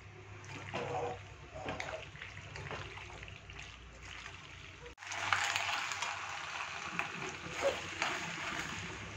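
Cooked macaroni being stirred and mixed in a bowl, a steady wet squelching and scraping that runs continuously and grows louder and brighter partway through, over a constant background hum.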